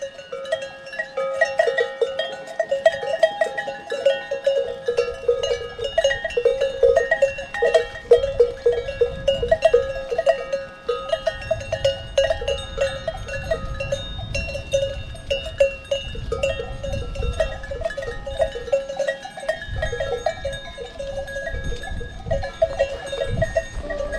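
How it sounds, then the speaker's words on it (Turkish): Many clanking bells ring irregularly from a grazing herd of goats and sheep in winter in Datça, Turkey, a loose jangle near and far with faint outdoor ambience. "Şu Çan sesi işte benim müziğim bu."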